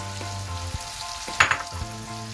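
Green and cappia peppers roast in a hot pan for an Ali Nazik, a Turkish dish, sizzling and crackling with a brief sharper burst partway through, over soft background music.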